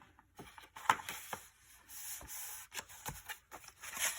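Paper flap on a handmade mini album pressed and rubbed down by hand after gluing, giving soft, close scratchy rubbing strokes and light taps in short bursts with brief pauses.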